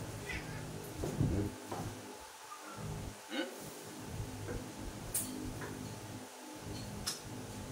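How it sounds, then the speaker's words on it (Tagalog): A pet cat meows a few times over a steady indoor background, with faint voices in the room. "Ito yung pusa kong alaga na"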